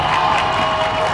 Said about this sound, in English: The crowd getting so behind the team. They're cheering.